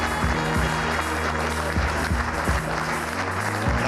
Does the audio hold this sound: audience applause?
yes